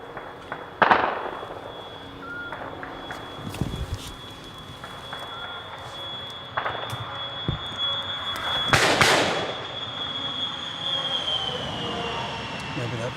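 Scattered bursts of gunfire crack across a Ukrainian combat zone, some sharp and close, others distant, amid a low rumble and a steady high whine.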